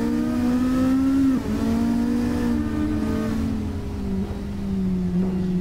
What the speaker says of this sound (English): He's doing like burnouts and stuff ahead of us.